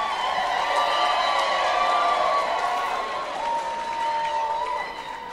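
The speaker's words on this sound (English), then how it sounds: "One more round of applause, ladies and gentlemen." Guests at an engagement celebration applaud and cheer in a steady crowd roar, loud and sustained before easing slightly toward the end, with voices mixed in.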